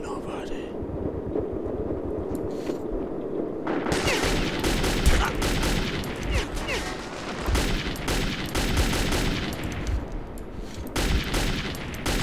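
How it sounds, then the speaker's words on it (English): Bursts of automatic gunfire in the Metro 2033 video game, quieter at first and then erupting into sustained, dense shooting with short gaps, loud and close, with muffled voices mixed in. "I heard bullets."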